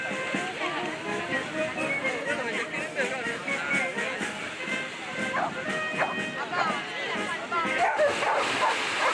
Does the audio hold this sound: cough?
no